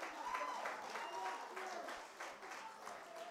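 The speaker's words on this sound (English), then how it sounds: "big round of applause, please" Faint audience applause fills a theatre during a college music show as a teacher is called up, soft clapping running steadily throughout with some voices mixed in.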